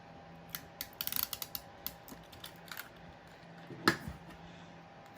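Tape being pulled and pressed onto the back of punched cardstock circles, a string of small crisp ticks and crackles close by, ending with one louder tearing snap, no voices.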